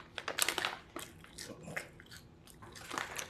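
Crunchy Japanese butter potato fries are bitten and chewed up close, giving a series of crisp snaps and crackles followed by softer munching, fairly quiet.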